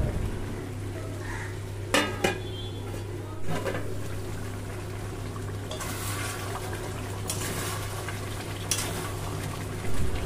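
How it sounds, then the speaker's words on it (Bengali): Mutton cooks covered in a pan for a thin potato curry, a constant sizzle and bubbling joined by a few clanks of the pot lid and stirring scrapes, close by. "মাঝে মধ্যে ঢাকাটা একটুখানি খুলে নেব আর একবার করে নেড়ে দেব।"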